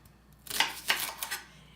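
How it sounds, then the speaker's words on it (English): A knife roughly chops shallots on a board, a quick burst of three or four crisp close cuts after a quiet start, with no talking. "we are only roughly chopping them"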